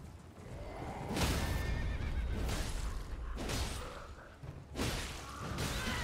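A horse in the video game Elden Ring neighs and snorts several times in loud bursts, mixed with hoof clops, thuds and whooshing movement.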